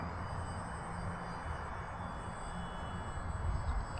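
A small UMX Turbo Timber Evolution radio-controlled plane flies outdoors in light wind, its electric motor giving a steady faint drone that swells slightly as it passes closer, with no talk.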